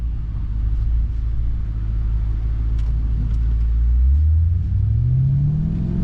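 A Maserati Ghibli Trofeo sedan engine rumbles steadily while driving, then its pitch rises smoothly as it accelerates, heard close with no talking.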